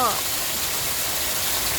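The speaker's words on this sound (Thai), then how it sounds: "แล้วหนักอย่างนี้นะเทลงมาอย่างเดียวนี่โอเคเลย" Heavy pre-dawn rain pours straight down in Buriram with no wind or thunder, a dense, steady hiss filling the moment. A voice briefly starts at the outset.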